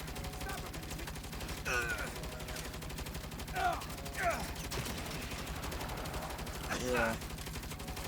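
Rapid gunfire from the Saints Row video game, dense continuous bursts running through the whole stretch, with a voice speaking intermittently over it.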